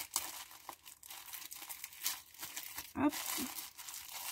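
A plastic packet of fake snow for a homemade snow-texture paste is torn open, producing steady close crinkling and crumpling with a sharper tearing burst near the end, and a voice briefly exclaims.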